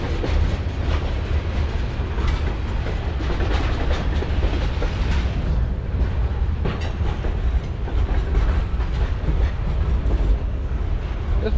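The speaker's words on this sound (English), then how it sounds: "Another mixed manifest train. This was a pretty long one here." Long mixed manifest freight train rolling past in Galesburg, Illinois: a loud, continuous rumble of railcars with steady clickety-clack from the wheels and occasional metallic rattles, close by and uninterrupted by talk.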